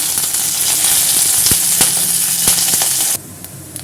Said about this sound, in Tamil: தேங்காவை இந்த மாதிரி பொண்ணுரலாம் வறுத்து எடுக்கணும்